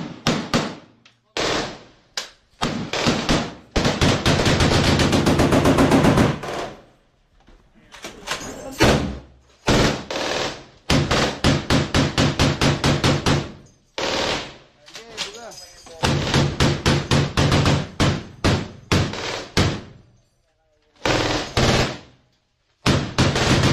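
Gunfire in a combat scene comes as bursts of loud, sharp shots and rapid volleys, broken by short silences, with shouting voices mixed among the blasts.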